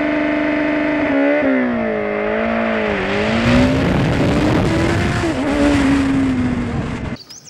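Motorcycle revving hard on a launch-control start in a pit lane, the engine note holding steady then climbing through the gears as the bike accelerates away, loud and close throughout before cutting off abruptly at the end.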